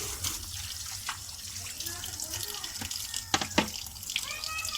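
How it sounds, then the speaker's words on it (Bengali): Tap water running into a sink while hands are washed, a steady close splashing stream with drips and a few sharper splashes as the hands move under it. "আমি হাতটা ধুয়ে নেওয়া হলো।"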